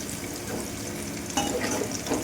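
Chicken pieces frying in hot oil for chicken fried rice: a steady, close, continuous sizzle with bursts of crackle, unbroken by any voice.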